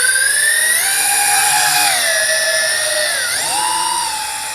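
A JJRC H26D quadcopter drone's rotors whine steadily at takeoff, a loud, close, high-pitched buzz whose pitch dips and rises as the motors throttle, without speech.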